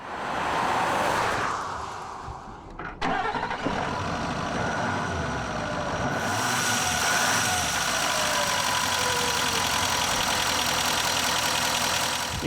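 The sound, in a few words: diesel pickup truck engine idling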